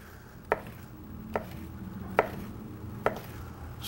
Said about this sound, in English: Slice them up.